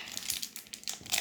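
A Pokémon Astral Radiance booster pack wrapper is torn open by hand up close, giving a short run of quiet crinkling and ripping foil-plastic sounds.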